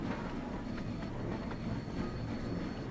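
A steam locomotive runs in Train Sim World 3 on the Peak Forest line, giving a steady, loud rumble with faint rhythmic clatter throughout and no voices.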